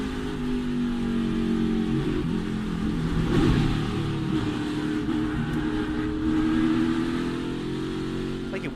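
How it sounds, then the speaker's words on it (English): Onboard a NASCAR Xfinity Series race car, the engine drones loudly and continuously, the throttle swelling and easing as revs rise and dip, with no talk over it. "Listen to the throttle as we go on board again with Sammy Smith."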